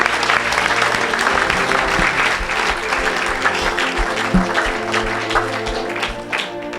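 A church congregation at an evangelistic service claps and cheers loudly for the whole stretch, a dense, sustained wave of applause with voices mixed in.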